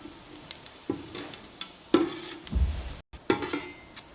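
Fennel seeds with bay leaf being lightly sautéed in a pan for Chettinad chicken masala, a faint sizzle broken by irregular scrapes and clinks of a stirring spoon against metal.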